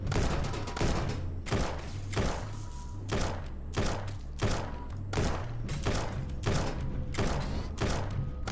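An automated turret in the video game Starbound fires in a steady run of repeated heavy thumping shots, regular and fairly loud, continuing throughout without any talk over it.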